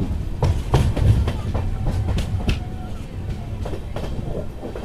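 A Tirupati–Secunderabad superfast express with LHB coaches rumbles along the rails, low continuous rolling noise broken by a few sharp clacks and knocks, steady and close throughout.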